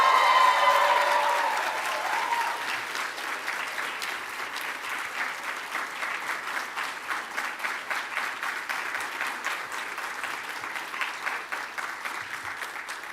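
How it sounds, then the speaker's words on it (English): An audience at a Lavender Graduation ceremony applauds the graduates: a loud swell of clapping with cheers at the start, settling into sustained, rhythmic mass clapping that carries on evenly for over ten seconds. "Let's give another just wild round of applause for our graduates."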